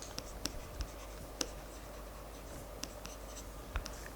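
Pen or chalk writing out a physics solution during a lecture on particle orbits, with faint scratchy strokes and several sharper taps across the span, quiet and close, with no talking.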